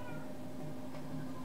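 A cartoonish cat meow from the game Techno Kitten Adventure, a single drawn-out electronic kitten cry sitting over a steady humming synth backdrop.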